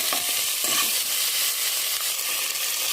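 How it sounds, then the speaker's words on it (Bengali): Chicken pieces fry in a pan of onion, ginger, cardamom, clove and cinnamon, giving a steady close sizzle with light stirring scrapes and no talking. "চিকেনটা ভাজা হচ্ছে, হালকা ভাজবো"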